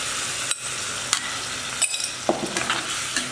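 Marinated ivy gourd hisses and sizzles in a hot spiced oil tempering after a splash of water, a steady close frying crackle broken by a few sharp spatter bursts and light stirring clinks.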